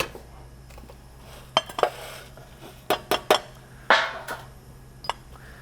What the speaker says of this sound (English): We're going to break it down further in our pestle and mortar.